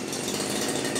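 Small two-stroke engine of a CG411 brush cutter, sold with metal and nylon blades, running steadily at high revs with a rough buzzing drone throughout.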